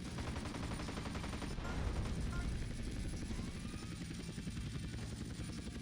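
An attack helicopter's rotor drones steadily while rapid bursts of gunfire rattle in GTA San Andreas, the game sounds quiet and continuous with a voice talking over them.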